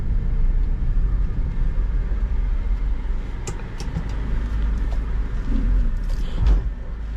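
A 2010 Proton Exora 1.6 CPS premium automatic on a test drive, its engine and road noise a steady low rumble throughout, with a few faint clicks and knocks from inside the cabin.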